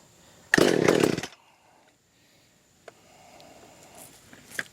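A McCulloch Mac 130 chainsaw, returned to service after years of sitting, fires briefly with a loud close burst of engine noise and then cuts out, leaving quiet with a few faint clicks and a low hum.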